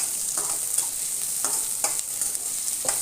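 Capsicum strips sauté in hot oil for gobi manchurian, a steady close sizzle broken by a regular series of spatula scrapes and stirs.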